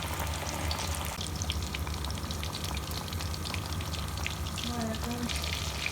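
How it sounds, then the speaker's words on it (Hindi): Fish frying in oil for a Lahori fish fry, a continuous close sizzle and crackle that stays steady throughout, with faint talk underneath. "फिर दूसरी साइड टर्न करेंगे और फिर इसको फ्राई करेंगे"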